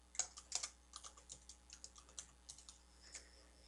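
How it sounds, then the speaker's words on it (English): Quiet typing on a computer keyboard: a quick, uneven series of light key clicks with a faint background hum. "I'm going to type in JP Technology."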